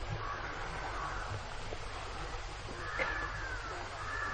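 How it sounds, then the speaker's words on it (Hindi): Faint forest ambience with crows cawing and other birds calling in the distance, a soft, continuous outdoor backdrop with an occasional caw standing out. "यहां इतने पक्षियों की आवाजें हैं"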